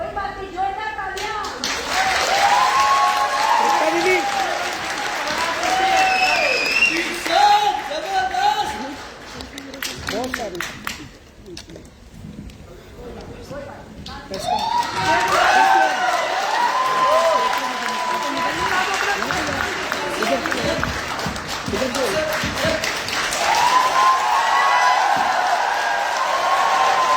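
Audience applause at a business success-story gathering, a long dense spell of clapping that fades briefly midway and then swells again, with cheering and voices mixed in.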